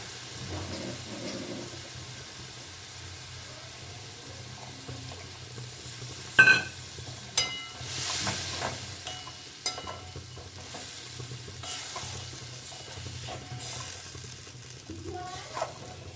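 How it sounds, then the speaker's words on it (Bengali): Food sautéing in a pan with spice paste mixed in, giving a faint, steady sizzle with scattered louder clinks and scrapes of stirring midway, and no voice. "এটা এভাবে ভালো করে কষিয়ে নেব"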